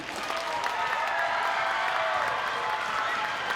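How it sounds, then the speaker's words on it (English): Audience applause for the second-place debate team at a championship debate award ceremony, a steady dense wash of clapping with some crowd noise and faint cheering, holding at an even level throughout. "give as much applause for the second place team as you did for the first place team"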